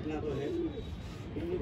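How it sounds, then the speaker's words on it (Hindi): A pigeon coos on a rooftop as it flies back to its home coop, a soft low repeated call under steady outdoor background noise, with people talking nearby. "ये आ गया भाई छत पे देखो जिस खाने गया था उसी खाने कबूतर वापसी आता हुआ"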